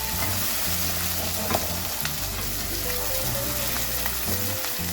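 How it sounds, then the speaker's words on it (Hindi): Masala-stuffed eggplants frying in a pan, a thick, steady hiss of hot oil broken by occasional soft stirring knocks, close and constant throughout with no voices. "तकरीबन 2 मिनट तक भूनूंगी मैं इसे फिर से।"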